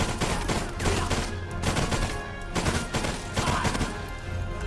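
Automatic weapon fire rattles in dense, overlapping bursts throughout a breach-and-clear firefight in the World War II shooter Enemy Front, loud and continuous with no talk.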